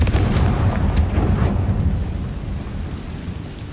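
A Confringo fire spell goes off in Hogwarts Legacy as a heavy, rumbling blast that booms at the start, then fades into a low, lingering roar.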